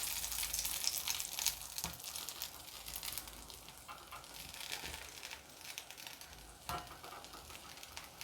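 Bread toasts in homemade butter in a pan on the stove, sizzling and crackling softly with a few scrapes and shuffles as it is moved about, close by and fairly quiet.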